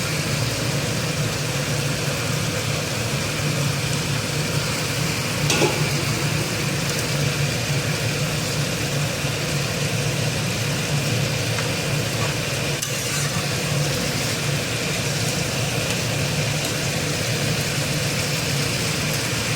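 Bata fish curry broth simmering and bubbling in a pan, a steady close bubbling hiss with a low rumble, continuous for the whole stretch with a few faint clinks and no talk.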